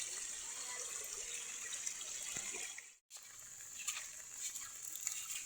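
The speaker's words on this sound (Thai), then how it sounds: "น้ำห้วยไหลอยู่" A swollen stream after heavy rain flows steadily with a continuous hissing, splashing rush, close and even, with a brief dropout midway; faint voices are barely present.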